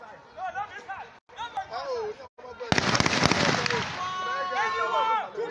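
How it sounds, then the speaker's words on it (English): Sharp gunshot-like bangs crack outdoors in Benin City during EndSARS unrest, with a burst of rapid reports in the middle of the clip. Agitated voices and crowd chatter continue throughout. "You can hear gunshots."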